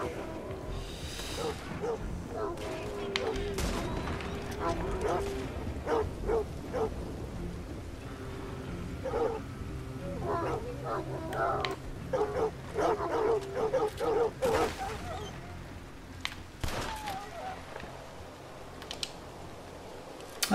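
Dogs bark and yip repeatedly in Red Dead Redemption 2, sharp scattered barks at mid distance over a busy background, with a whimper now and then and keyboard-like clicking throughout.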